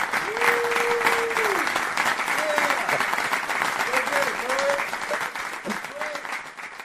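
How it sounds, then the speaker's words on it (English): A studio audience applauds steadily for several seconds, a dense, even wash of clapping at moderate loudness. Voices call out and whoop faintly over it. "Give Daryl Davis a round of applause."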